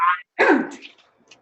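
A single short sneeze bursts out close by after a brief nasal sound, followed by quiet.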